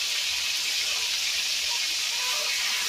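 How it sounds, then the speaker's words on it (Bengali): Continuous bright hiss and sizzle of meat frying in hot oil, close and steady with no voices. "এই যে মাংসগুলো অলরেডি অর্ধেক ভাজা হয়ে গেছে"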